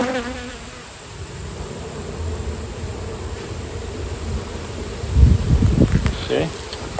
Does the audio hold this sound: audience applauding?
no